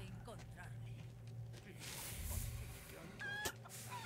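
A chicken in Resident Evil 4 Remake gives soft, repeated clucks close by, with a low game hum underneath and someone talking over it.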